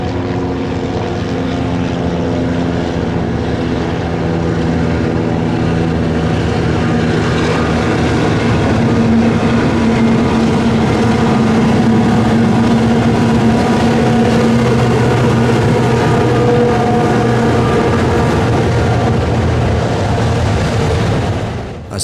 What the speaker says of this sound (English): A single Jeep 38 lugging a mixed train over the river